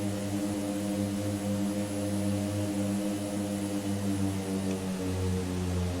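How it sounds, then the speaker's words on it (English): A de Havilland Twin Otter's propellers run at full power in Microsoft Flight Simulator 2020, a loud, steady, droning buzz with strong harmonic hum that holds unbroken throughout. "Gonna get our props to full."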